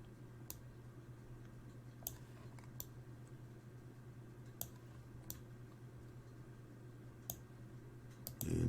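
Sparse, isolated clicks of keys being pressed on a computer keyboard, spaced a second or more apart over a steady low electrical hum, with a brief louder rustle at the very end.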